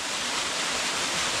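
Waterfall pouring into a cold clear pool among rocks in the Victorian High Country, a steady dense hiss of rushing water, loud and unbroken.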